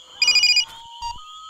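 A phone rings in a short warbling electronic burst, loud and close, followed by a quieter tone and a fainter blip.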